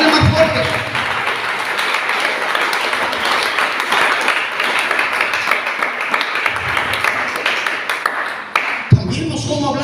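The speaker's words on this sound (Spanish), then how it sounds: "Dale más fuerte ese aplauso para Dios." A church congregation applauds strongly, a dense sustained clapping with crowd noise, briefly dipping and then rising again near the end, with voices mixed in underneath.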